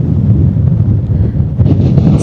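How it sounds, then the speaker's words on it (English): Wind buffets the microphone on a Scottish mountain summit near Oban, Beinn a' Chochuill, a loud, continuous low rumble with gusty surges and no voices. "Quite windy."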